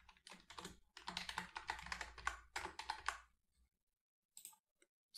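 Keys on a computer keyboard clatter in fast, close bursts as a web address is typed, pausing briefly before a couple of final isolated clicks.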